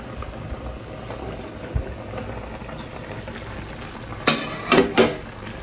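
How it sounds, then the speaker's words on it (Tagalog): Chicken adobo simmers in a pot in a home kitchen, a faint steady bubbling and sizzle that runs throughout, broken near the end by a few louder clattering knocks. "Titingnan natin yung ating niluluto na chicken adobo."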